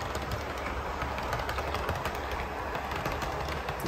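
Model railway train rolling steadily through a set of number 8 turnouts, a continuous close rumble with faint rail clatter and no talk.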